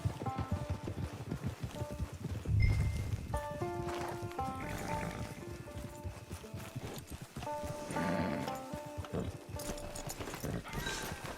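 Horse hooves clip-clopping at a walk in the video game Red Dead Online, a steady rhythmic stream of soft hoofbeats set against quiet ambient music, with a brief louder thump midway.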